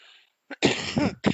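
A couple of harsh, close coughs in quick succession, sharp and throaty, with no talking.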